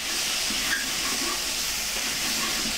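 Vegetables and beef sizzle in a hot stir-fry pan, a steady loud hiss with faint scraping of the stirring underneath and no pauses.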